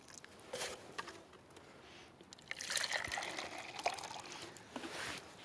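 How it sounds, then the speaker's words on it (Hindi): Water is poured gently from a small container onto newly transplanted pomegranate seedlings in a pot, a soft trickle and patter that comes in short bursts and then runs more steadily, close by and quiet. "अब इसको हमने पानी देना है।"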